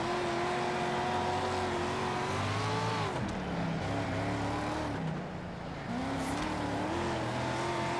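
Street stock cars racing at Kokomo in the World of Outlaws dirt-track racing game, engines droning and revving continuously up close as the cars run in a pack, the pitch rising and falling through the laps.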